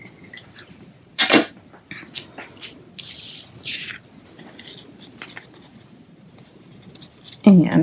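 Scissors make a sharp snip or two while trimming ribbon for a Stampin' Up! paper craft, with quiet handling rustles and occasional soft clicks around it.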